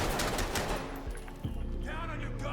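An AK-103 rifle fires in the tactical shooter Ready or Not, a rapid automatic burst of sharp cracks up close, then quieter mechanical clatter and echoing tail.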